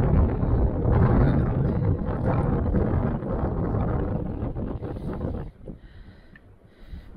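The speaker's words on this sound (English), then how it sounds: "it's a bit windy" Wind blows outdoors in winter snow, making a strong, continuous rushing buffet against the microphone that drops off sharply near the end.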